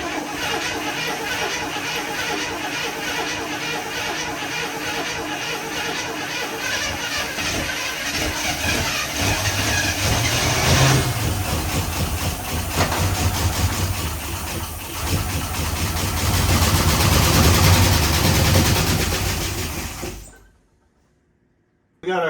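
An International Travelall engine runs on a temporary fuel system, a loud rough idle that rises and falls in revs for about twenty seconds, then cuts off suddenly into silence.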